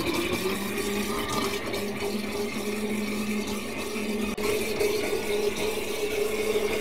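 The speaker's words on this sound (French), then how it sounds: "il y a un bruit énorme, des bulles, il y a un auto-nettoyage qui se fait de cette Easy Soup" Moulinex Easy Soup blender running its self-cleaning cycle with water inside, a steady churning hum and loud continuous bubbling, with no talk.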